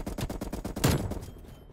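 An M60 light machine gun fires in Black Ops Cold War, loud rapid regular shots in a sustained burst with one heavier blast near the end, then cutting off abruptly.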